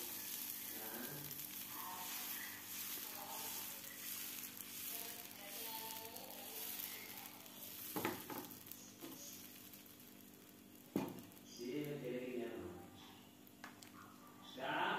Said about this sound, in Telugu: ఇంకొక ఊతప్పం వేసి చూపిస్తున్నానండి నేను ఇంకొకసారి ఫ్లేమ్ లోలో పెట్టుకొని ఇలా వేసుకోవాలండి